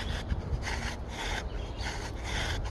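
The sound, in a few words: bow drill spindle rubbing on wooden fireboard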